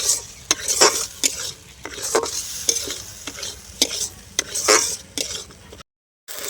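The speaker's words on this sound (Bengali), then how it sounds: "আরও কিছুক্ষণ আমি নেড়ে নেব খুব ভালো করে।" A spatula scrapes and clinks against a frying pan as flat beans are stirred, with repeated strokes over a soft sizzle, close and clear, ending in a brief silence.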